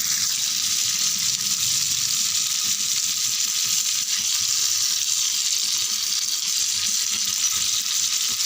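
Seela fish frying in a pan over low heat with curry leaves, a steady, even sizzle holding at close range throughout with no talking.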